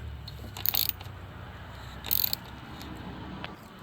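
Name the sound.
ratchet loosening 8mm bolt on Dodge Dart radiator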